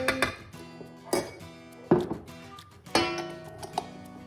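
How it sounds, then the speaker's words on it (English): Ingredients for zucchini brownies tumble into a cake mixture bowl, giving several sharp clinks and clatters of utensils and dish against the bowl in separate bursts, fairly close and without talk. "Go ahead and dump this all into my cake mixture"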